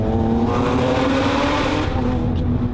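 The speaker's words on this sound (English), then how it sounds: "It is honestly the craziest exhaust I've ever heard in my life." A Lamborghini Aventador SVJ with a Capristo decat exhaust roars loudly and steadily throughout, a dense, unbroken engine blare that stays close and powerful with no break in intensity.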